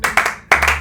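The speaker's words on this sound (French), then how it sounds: "Allez, on applaudit" A few sharp hand claps ring out close and loud, a short uneven burst of two or three strikes with a brief pause before the last.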